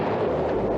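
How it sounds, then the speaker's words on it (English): Part of a chocolate factory in Pennsylvania explodes, picked up by a weather camera as a heavy, continuous roaring rumble that stays loud and broad throughout, with no voices. "Weather camera in Pennsylvania capturing the moment part of a chocolate factory exploded."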